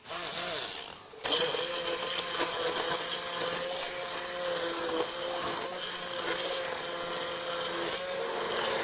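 A stick blender whirs through mussel cooking liquid to thicken it, a steady buzzing motor that starts abruptly after a short pause and runs loud and continuous.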